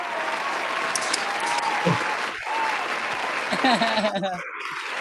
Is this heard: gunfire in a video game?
no